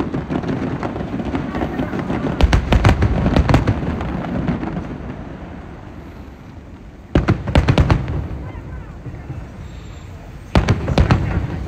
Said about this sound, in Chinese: 是不是就那种咚咚咚的声音特别好听？